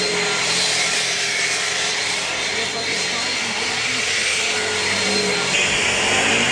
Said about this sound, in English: It's probably because of that huge fan on the car.